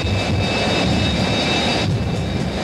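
A jet engine from an F7U, mounted on a stock pickup truck at a thrill show, roars loud and steady at close range with a constant high whine over heavy rumble.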